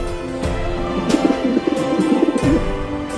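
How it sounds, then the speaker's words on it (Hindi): A pigeon coos in soft, throaty, rolling phrases, close and fairly loud, with a few sharp clicks or knocks in the background and no voices. "वो रहा कमीना कबूतर।"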